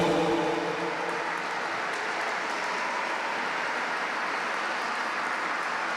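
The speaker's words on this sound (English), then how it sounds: "Let's have a round of applause for Zoe." Audience at the Rochdale Diversity Awards in the Town Hall clapping for Zoe, a dense, steady roar of applause sustained throughout without any talk.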